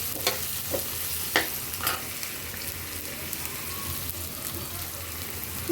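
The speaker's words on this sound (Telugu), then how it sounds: "పెద్దల్లిపాయ టమాటా పచ్చిమిరపకాయ ఇవన్నీ తాలింపులో బాగా వేయించుకోవాలి" Steady sizzling of onion, tomato and green chilli frying in hot tempering oil, with a few louder stirring clatters early on; continuous and close, no voices.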